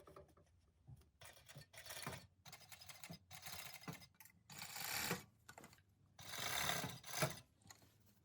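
Serger stitching the edges of a hoodie's hood to the neckline, in short bursts of rapid mechanical whirring separated by brief pauses, close but fairly quiet.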